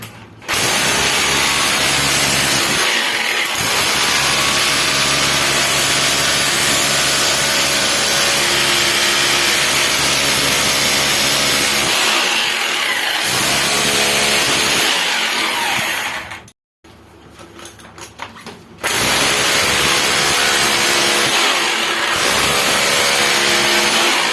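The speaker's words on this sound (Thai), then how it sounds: "แล้วก็เจาะพันยาวๆเลย" A power drill bores a long hole under a toilet during a leak repair, grinding in a loud, steady, rattling whine that runs for most of the stretch with a few short pauses and one longer break.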